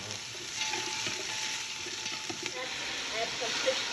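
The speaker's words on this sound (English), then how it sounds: "Here it is frying, and we add some garlic." Garlic sizzling and frying in hot oil in a pan, a steady close crackle throughout with faint scattered pops and light stirring.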